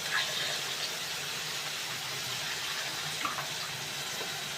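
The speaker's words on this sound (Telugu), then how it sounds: "చల్లనీళ్ళు పోసుకొని" Cold water pours steadily in a home kitchen while cooking tomato egg curry, a soft continuous splashing that stays fairly quiet throughout with no talking.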